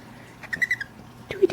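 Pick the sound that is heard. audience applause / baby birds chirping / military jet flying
baby birds chirping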